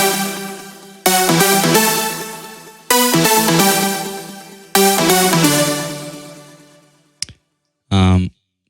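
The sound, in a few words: synth lead playing with reverb turned off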